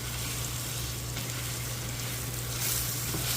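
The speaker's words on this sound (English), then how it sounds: "Get this stirred around." Meatless white bean chili sizzles steadily in a pot while being stirred, a dense continuous frying hiss with a low steady hum underneath and no talking.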